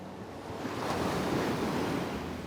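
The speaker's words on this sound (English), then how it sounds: "Some of these waves are quite wild." Sea waves surge and break on a beach on Scotland's east coast near high tide, a continuous loud rushing wash with wind buffeting the microphone.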